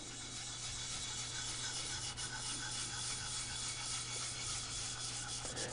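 Clarinet reed blank rubbed back and forth on sandpaper, a continuous close, dense scratchy rasping that holds steady throughout with no talk.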